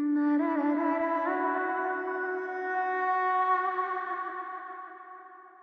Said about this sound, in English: It's some distortion that I added